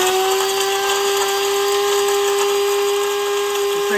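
An electric grinder whirs at a high, steady pitch as it blends dried lion's mane mushroom into powder, a loud continuous whine close by throughout.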